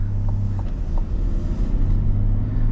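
A 2024 GMC Yukon Denali Ultimate with the Duramax diesel engine rumbles steadily while driving, a deep, continuous low drone heard from inside the cabin with no talking.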